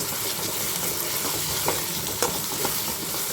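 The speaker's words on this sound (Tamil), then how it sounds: "அதையும் சேர்த்து வெங்காயத்தோடு நல்லா வதக்கி விட்டுக்கிறோம்" Steady sizzling of onion and garlic frying in a pan, with occasional scraping clicks as it is stirred, continuous and fairly close.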